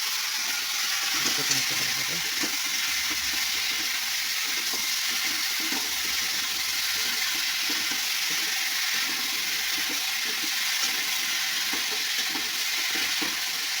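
Fish frying in a pan for a fish stew with pumpkin and raw tamarind, producing a steady, loud sizzle and hiss of hot oil that runs without a break.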